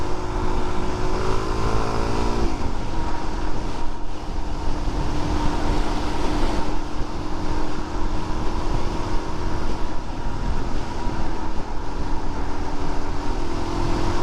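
A 2022 Suzuki DRZ400SM motorcycle holds a steady, loud engine drone on the move, mixed with constant wind rush and no talking.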